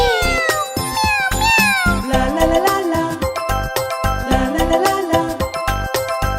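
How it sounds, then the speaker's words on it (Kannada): A cat meows repeatedly and loudly in a Kannada children's nursery rhyme, a series of drawn-out, wavering cries one after another with a bright jingling tinkle in the background and no talking. "ಮ್ಯಾವ್ ಮ್ಯಾವ್ ಬೆಕ್ಕೆ ಕದ್ದು ಹಾಲು ನೆಕ್ಕೆ."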